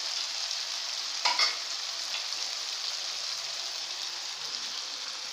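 Spices fry with softened tomatoes in a pan over a medium flame for a chole with chicken dish, a steady close sizzle with a brief clatter of added ingredients early on and no talking.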